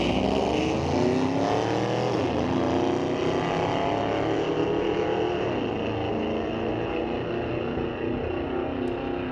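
Dodge Challenger and Chevrolet Corvette drag racing at Mission Raceway Park's street legal drags, a loud sustained engine roar with rising and falling pitch as the cars pull down the strip, steady throughout with no talk.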